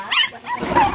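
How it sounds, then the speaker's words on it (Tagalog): Dog barking indoors in a house, a short sharp bark or yip with a second cry close by, loud and near in a brief moment. "May aso sa loob ng bahay?"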